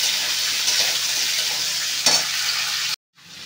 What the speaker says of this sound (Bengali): বাকি সবজিগুলোকে ভেজে নেব।